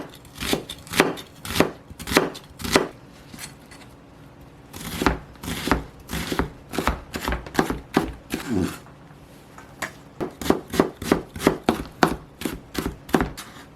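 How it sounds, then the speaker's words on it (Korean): Half an onion being finely chopped with a knife on a cutting board, a close, steady run of crisp rhythmic knocks in quick bursts with brief pauses. "양파는 반 개만요 조금 잘게 다져 넣겠습니다"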